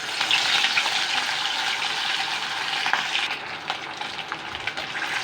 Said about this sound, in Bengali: এখান থেকে মাছ একটা একটা করে নিয়ে আমি তেলে ছাড়বো